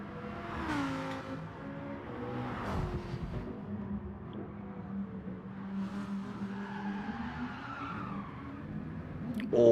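Race car drifting at Suzuka Circuit in a Gr3 racing game, an engine droning and revving at moderate volume with tyre squeal and skidding smeared across it, ending on a sharper burst.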